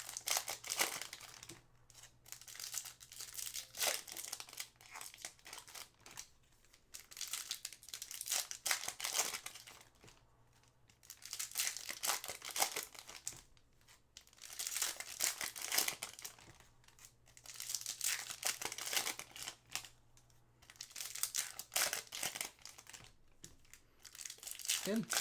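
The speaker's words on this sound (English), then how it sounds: "I love how much easier these packs are to open than last year's extended" Foil trading card packs are torn open and their wrappers crinkled and crumpled in repeated bursts, close and fairly loud, while a low hum runs beneath.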